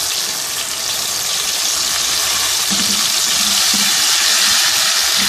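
Chopped tomatoes fry in a pan for aloo salan, giving a steady, loud sizzle and watery crackle that fills the whole stretch without any talking.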